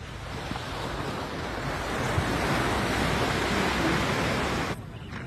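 Sea waves wash steadily onto a beach at dawn, a broad continuous surf roar with wind buffeting the microphone, easing slightly in the final half second.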